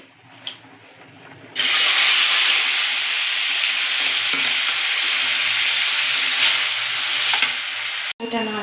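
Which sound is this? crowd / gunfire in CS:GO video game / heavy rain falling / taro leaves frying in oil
taro leaves frying in oil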